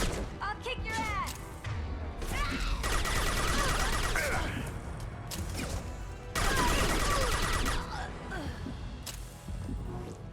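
Submachine gun fire in Mass Effect 2, sustained rattling bursts with crashes and impacts amid combat, voices talking over the action.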